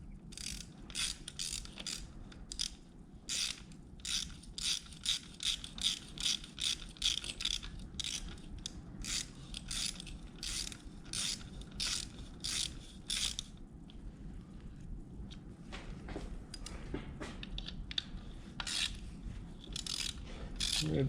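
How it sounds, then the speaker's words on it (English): A wrench ratchets steadily as bolts are tightened on a power steering pump during an install on an Audi B6 A4 2.7T, with dense rapid clicks running close and loud for about twenty seconds. "now we're going to take our wrench here and we're going to tighten all these down."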